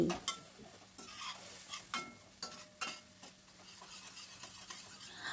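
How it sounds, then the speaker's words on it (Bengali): Tomato masala being stirred in a pan while it fries, with a spoon scraping and clattering in several distinct strokes over a steady close sizzle, no voices. "আবার একটু নাড়াচাড়া করে দিচ্ছি।"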